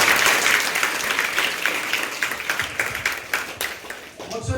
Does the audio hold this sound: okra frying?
no